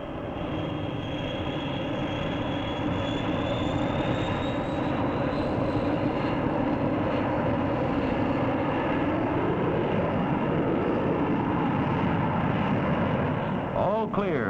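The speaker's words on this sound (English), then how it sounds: "A signal from the control tower starts the pilot on his way to the runway." A 1960s airliner taxis toward the runway, a loud continuous engine roar and whine that holds steady close by, with a rising tone building through it and a voice talking over it.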